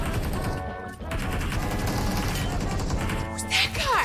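Rapid bursts of video game gunfire crackle loudly and almost continuously, a dense fusillade of overlapping shots with a few heavier impacts near the end, while a player's voice speaks over the action.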